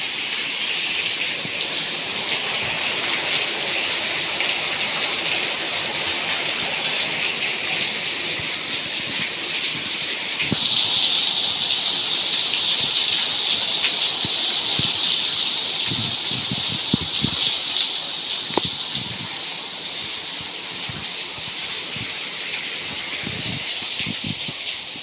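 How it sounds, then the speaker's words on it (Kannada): Heavy rain falls steadily in Bengaluru, a dense continuous hiss with scattered louder drops and splashes, swelling slightly midway and lasting throughout. "ಬೆಂಗಳೂರಲ್ಲಿ ಸಖತ್ ಮಳೆ ಬರ್ತಾ ಇದೆ ಇವತ್ತು ಫ್ರೆಂಡ್ಸ್"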